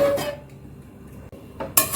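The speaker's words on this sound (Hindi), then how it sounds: "कुकर का प्रेशर खत्म हो चुका है। अब इसे खोल के चेक करते हैं।" The lid of a pressure cooker used for lotus stem curry is opened after cooking, with a couple of short metallic clanks of pot and lid against a quiet kitchen background.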